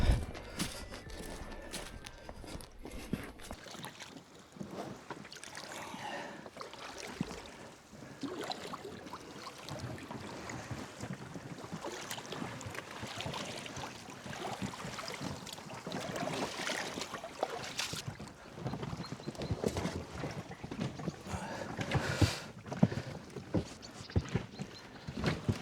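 A boat rowed out onto a forest lake, with irregular knocking of oars and splashing water in steady bursts, fairly close and moderately quiet, no speech.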